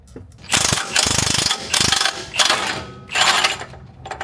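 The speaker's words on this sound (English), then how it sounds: "Take this bottom bolt out." A ratchet backs out a bottom bolt on a 2025 Toyota TRD Tundra during a Rough Country install: loud, close bursts of rapid clicking, about five separate runs with short pauses between them.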